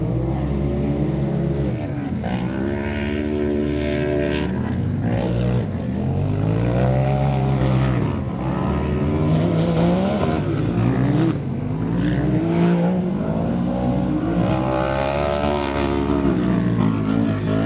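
A Can-Am ATV engine roars loud and close through a motocross section during an off-road race, its tone rising and falling steadily through gear changes and throttle bursts for the whole stretch.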